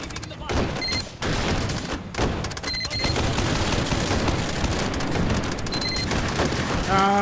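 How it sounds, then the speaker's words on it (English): Dense, sustained volleys of gunfire and booming explosions from the VR shooter Hot Dogs, Horseshoes & Hand Grenades, loud and continuous with overlapping shots and blasts throughout, stuttering briefly as the action piles up. "Ah, the game slowing down. Too many explosions."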